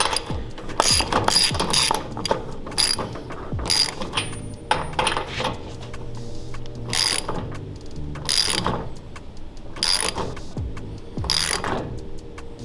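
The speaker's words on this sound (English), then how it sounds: "You're going to use a 15/16 wrench or socket." A ratchet with a 15/16 socket tightens a 5/8 lock nut on a vintage go-kart wheel, giving loud, close bursts of rapid clicking in repeated strokes with short pauses between.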